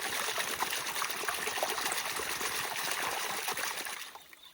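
A gold pan is shaken in water while fossicking in New South Wales, making a steady wash of trickling and sloshing that fades out at the end.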